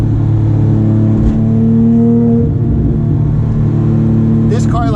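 Close, loud engine note of a Porsche 911 GT3 RS 997.2 on the move, rising through revs with steady harmonic drone and a shift, while a voice talks over it.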